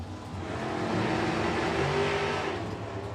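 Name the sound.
drag race car accelerating down the track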